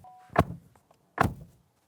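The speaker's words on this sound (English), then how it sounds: "it's what the door slam sounds like" Two solid thunks as the door of a 2025 Honda ZR-V turbo slams shut, close and crisp with a short pause between them.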